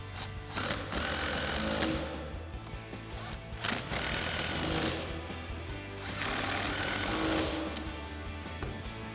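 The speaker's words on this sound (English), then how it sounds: "we're going to tighten them down with our 15mm socket on our impact" Impact wrench with a 15mm socket tightening nuts on a 2021-2023 Ford Bronco front leveling kit install, several loud rattling hammering bursts of a few seconds each separated by short pauses, close by.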